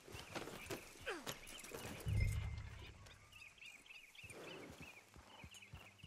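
Horse hooves clip-clopping at a walk in the Western video game Red Dead Redemption 2, a steady footfall rhythm with a louder low thud partway through, set against faint birdsong and outdoor ambience.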